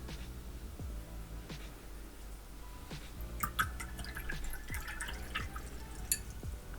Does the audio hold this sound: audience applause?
no